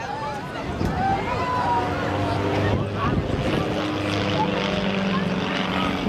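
Propeller aircraft performing aerobatics at the Blackpool Airshow in 2017, its engine a steady, fairly loud drone that rises and falls slightly, with a commentator talking over it on the public address.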